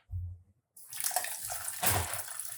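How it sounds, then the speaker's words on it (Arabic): Boiling water poured from a mug onto jelly powder in a glass, a brief low knock, then a near, steady splashing stream that swells in the middle before continuing. "ادي المية المغلية"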